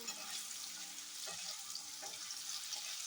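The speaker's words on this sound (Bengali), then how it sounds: "আর এই যে আলু ভাজছি" Potatoes fry in a pan in a home kitchen, a soft, continuous hiss and crackle with a few faint stirring clicks, quiet and without speech.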